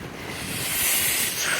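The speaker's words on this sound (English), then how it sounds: "it's windy and cold" Cold wind blowing outdoors on a sunny day, a steady, loud, broadband rush that swells slightly midway, with no voices.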